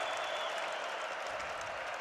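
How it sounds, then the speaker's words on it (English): Steady roar of a large football stadium crowd at a college game between Southern Illinois and North Dakota State, a dense continuous wash of cheering and noise with no distinct voices standing out. "Crowd roaring."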